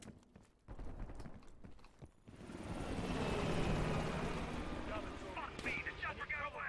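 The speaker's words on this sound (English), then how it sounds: "The chopper got away." A helicopter in the Black Ops Cold War video game roars up in a dense, swelling rotor-and-engine wash after a burst of gunfire and talk, loud and close before starting to thin out.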